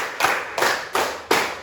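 Four crisp hand claps from students in a classroom counting game ring out at an even, deliberate pace, each clap sharp and close with quiet gaps between and no voices.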